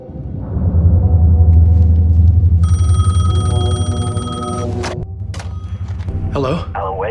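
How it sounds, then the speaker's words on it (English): A payphone rings in the video game Alan Wake 2, its steady electronic tone sounding for about two seconds over a low, continuous rumble, followed by a few brief clicks and handling noises. "The payphone was ringing."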